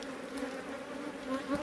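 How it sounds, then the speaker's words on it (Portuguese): Bees swarm around a wild honeycomb on a cliff rock, producing a faint, steady, close buzzing with wavering drones as individual insects pass near. "Tira essas abelhas aí de cima."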